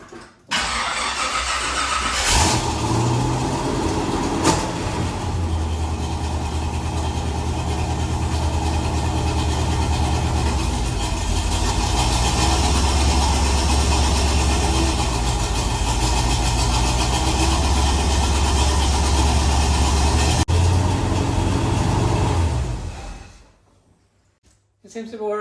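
An old Chevrolet Nova with a 56-year-old rear axle, raised on jack stands, cranks and starts, then runs at a steady loud idle for about twenty seconds before shutting off.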